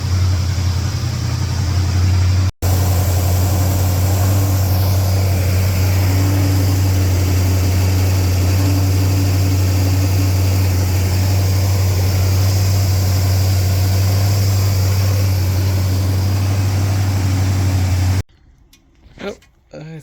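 A 1972 Buick Skylark's engine runs steadily up close, its low droning hum holding loud and even for about eighteen seconds before cutting to quieter broken sounds at the end.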